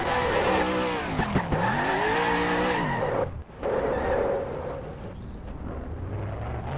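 Race car tires squealing and skidding in a racing video game at Dover, a continuous loud screech with sweeping pitch over a roaring engine, dipping briefly in the middle before resuming.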